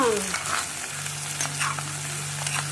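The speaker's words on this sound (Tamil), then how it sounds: "அது வெங்காயம் சேர்த்து நல்லா வதக்கிக்கலாம்." Onions sautéing in oil in a pan for a bitter gourd roast, a close steady sizzle with soft scrapes from stirring over a low constant hum, no talking.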